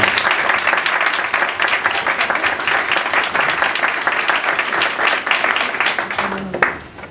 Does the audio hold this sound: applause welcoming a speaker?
yes